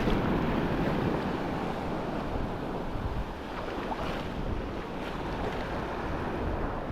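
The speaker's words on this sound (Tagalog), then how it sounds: "Habang hinahampas tayo ng alon eh, kinarir niya yung paghabol." Waves slap against a small fishing boat at sea while wind roars steadily across the microphone in a dense, continuous wash of water and air.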